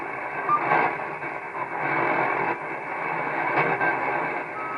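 A steady, buzzing electronic hum with a harsh, hollow tone drones on without a break, swelling slightly now and then, with no voices: internal noise from a radio receiver with its antenna disconnected, using a square-wave oscillator.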